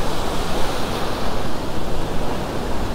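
Steady roar of ocean surf breaking on a beach where tailor fishing goes on, a dense, continuous wash of noise with gentle swells in loudness and no voices.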